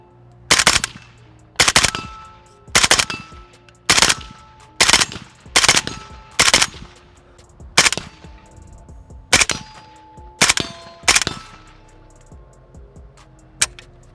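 Suppressed shots from a Bulgarian Red Star BSR47 rifle fired in quick pairs at steel targets, each muffled report followed by a ringing metallic clang, repeating about ten times at a steady pace.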